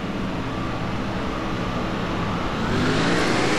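NASCAR race cars in a video game restart at Bristol, a dense pack of engines droning loudly and continuously and swelling as they accelerate toward the end.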